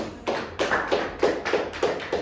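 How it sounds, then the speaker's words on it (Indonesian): A school class claps together in a slow steady rhythm, about seven sharp tapping claps spaced roughly a third of a second apart, close and fairly loud. "Tepuk tangan untuk kita semua"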